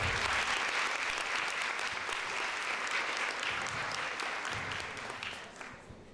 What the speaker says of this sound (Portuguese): Uma salva de palmas aqui para cá.